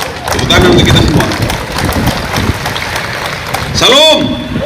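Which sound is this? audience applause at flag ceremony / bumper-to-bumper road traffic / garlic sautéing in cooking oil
audience applause at flag ceremony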